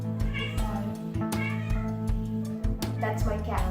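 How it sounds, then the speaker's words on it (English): A pet cat meows repeatedly indoors, several short close calls in an uneven rhythm, with faint background noise between them. "That's my cat, by the way."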